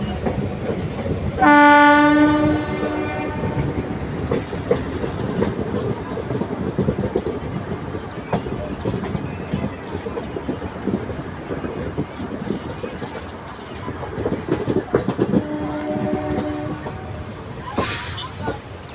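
Passenger train travelling from Tiruchirappalli to Puducherry, with a loud horn blast near the start and another shorter one near the end over steady rumbling wheel and carriage noise throughout.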